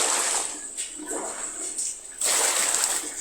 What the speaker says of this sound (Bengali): এখন ভালো করে পানি দিয়ে ধুয়ে নিব